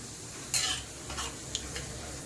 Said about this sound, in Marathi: तेल गरम झालेलं आहे आता आपण मोहरी आणि जिरे फोडणीला टाकूया